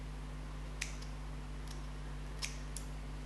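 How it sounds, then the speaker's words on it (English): A few quick, faint snips of scissors trimming excess lace from the front of a 5x5 lace closure wig, four brief cuts over a steady low hum. "just cut off the excess lace off the front"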